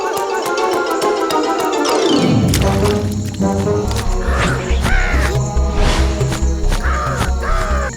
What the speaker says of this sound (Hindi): वो कौवा काफी देर से हमारा पीछा कर रहा है।